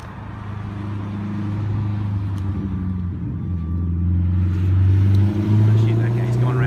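A car rumbles along a road near a Pluto beer gun of nylon and stainless steel, its low engine drone swelling and fading as it passes close by, with no voices heard.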